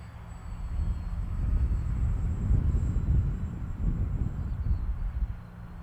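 A Dynam PBY Catalina model seaplane flies overhead, its electric motors giving a steady low drone and hum that swells slightly and fades, with wind rumbling on the microphone and no talk.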